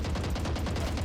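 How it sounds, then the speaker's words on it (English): Rapid gunfire in the tactical shooter Valorant rattles continuously as a dense burst of automatic shots through smoke, loud and steady across the moment without any voices. "Immediately the gunfire starts."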